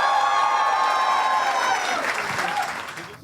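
Crowd applause at a stand-up comedy crowdwork show, a dense burst of clapping with a few cheers over a fading tone, tapering off toward the end.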